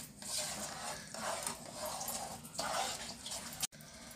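Sugar being mixed into dry fruits kheer in a pot, a steady wet scraping and sloshing of a utensil through the milky mixture, fairly close and continuous with a brief clack near the end.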